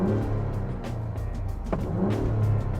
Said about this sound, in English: it does sound pretty decent for a 3-liter turbocharged V6